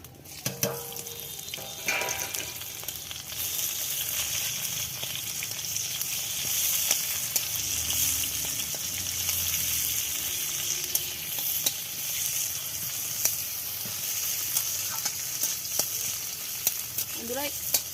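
A steady hiss of frying in a pan ahead of the onion going in, with faint scraping and stirring clicks over a sustained sizzle.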